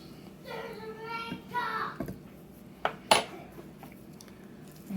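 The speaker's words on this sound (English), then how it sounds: "let's plate some of this up." Pork chops and rice being plated, with dishes and cutlery clattering in a few sharp knocks and scrapes, one louder clink near the middle, while a voice talks faintly at the start.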